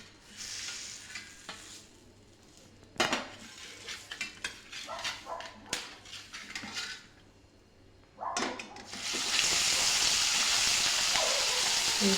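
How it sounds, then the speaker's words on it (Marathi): Chilapi fish pieces shallow-frying in a pan, a steady loud sizzle swelling near the end, broken earlier by clinks and scrapes of a utensil against the pan. "अशाच प्रकारे आपण हे सर्व मासे तळून घेऊ."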